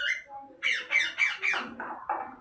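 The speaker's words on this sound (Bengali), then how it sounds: "দেখো, শোনো মিঠু ডাক" A pet bird squawks close by in a quick series of about six harsh, rising calls. There is no talk over the calls.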